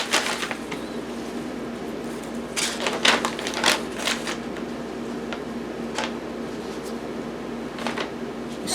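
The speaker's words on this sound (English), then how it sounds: "These food saver machines are wonderful." A FoodSaver vacuum sealer works on a food bag indoors, giving a steady mechanical hum under a run of sharp clicks and ticks that bunch together midway and then thin out, close by and with no voices.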